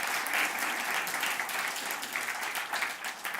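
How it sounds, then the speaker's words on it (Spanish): A church congregation breaks into full applause, many hands clapping in a dense, continuous wash that stays loud and steady with no speech over it. "Den un aplauso a ese Cristo maravilloso."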